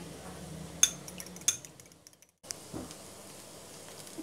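Eggs with roasted cumin, red chilli and salt being whisked in a bowl: a few sharp metallic clinks of utensil against the bowl, then a soft scraping beat, quiet and close with a brief silent gap.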